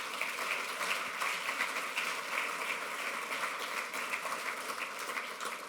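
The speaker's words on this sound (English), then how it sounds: "let's give a round of applause to the staff for putting all of this together" Audience applause for the event staff at a regional transportation convening, a steady wash of many hands clapping at moderate distance, sustained evenly throughout with no voices on top.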